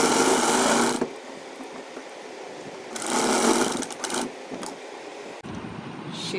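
A sewing machine stitches piping and lace onto fabric in two loud, steady, rapid bursts, the first about a second long and the second around two, separated by quieter handling noises with no talk.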